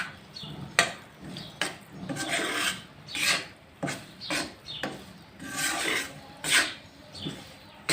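A spoon scrapes and stirs semolina and gram flour roasting in ghee in a pan, with repeated rasping strokes at an irregular rhythm, close and moderately loud with no talking.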